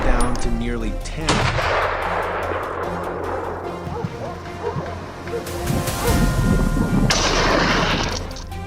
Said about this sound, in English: We chased and shot down a few more wild boars.